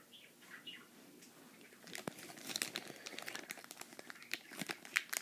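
Sticker sheets from a Nitro kill switch kit being handled, quiet crinkling and rustling of paper and plastic that grows busier and more crackly after a soft start.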